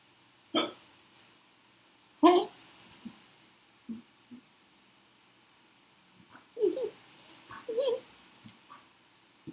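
A person's hiccups come as a few abrupt, close, gulping bursts spaced irregularly over several seconds, with some soft vocal sounds and quiet noise between them.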